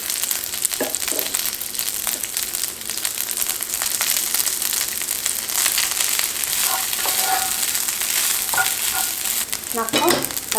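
Rice fries in hot olive oil for bibimbap with a steady dense sizzle, broken by occasional scrapes and clinks of stirring in the pan.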